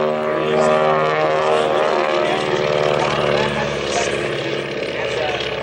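A Beech 18 airplane's twin radial engines roar steadily and loud during an air show performance, a rich, throbbing drone that swells and eases slightly, with a voice talking over it.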